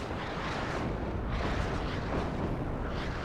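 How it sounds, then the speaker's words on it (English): An RM70 rocket artillery salvo in a strategy video game, a continuous, dense rumbling roar of launches and blasts that holds steady without a break. "But here comes the rocket artillery to stop it."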